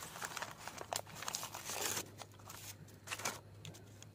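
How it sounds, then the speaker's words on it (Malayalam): Paper rustles and crinkles in close, irregular bursts as it is folded, cut and twisted by hand into a fuse for a palm-leaf firecracker. "ഈ ഭാഗം ഇങ്ങനെ കട്ട് ചെയ്ത് കൊടുക്കാം"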